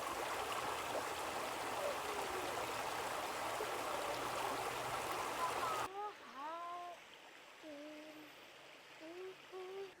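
Gap Creek flows crystal clear, with a steady rushing and trickling of water close by. The sound holds for about six seconds, then gives way to quieter outdoor ambience with chirping birds.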